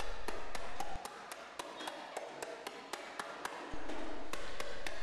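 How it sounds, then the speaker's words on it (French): Sheet metal for a hubcap being hammered on a sandbag, with off-centre blows landing near the edges: a steady run of sharp, close metallic taps at about two per second, with no voices. "nous allons commencer à initier la forme de la pièce en portant des coups à faux"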